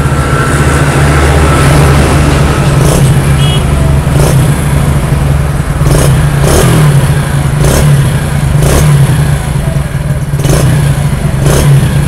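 A Hero Splendor motorcycle engine revs under throttle after an engine fitting, a steady loud idle hum with several short sharp blips of acceleration spaced every second or two, close and alone with no talk.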